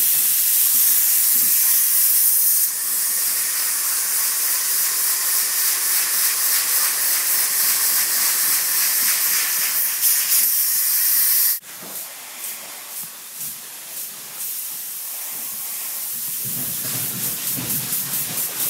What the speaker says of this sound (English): Another great advantage to the spray foam application is that we spray the envelope